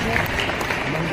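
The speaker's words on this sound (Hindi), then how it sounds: "जरा एक बार जोरदार तालियां तो मोदी के लिए होनी चाहिए" Crowd clapping at an outdoor BJP political rally in Harda, a loud, continuous burst of applause with a voice speaking over it.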